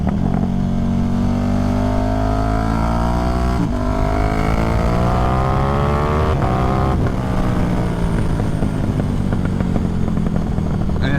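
A KTM 1390 Super Duke R running an Evo OFT Stage 2 flash with the baffle removed roars loudly and continuously, its deep exhaust note rising and falling through sweeping revs, close and alone.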